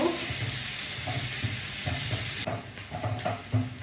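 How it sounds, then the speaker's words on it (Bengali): Potatoes fry in a pan on the stove, giving a constant close sizzle and hiss with repeated scraping stir strokes from a utensil, with no talking. "একই সঙ্গে আমি ঝটপট করে আলু ভাজব"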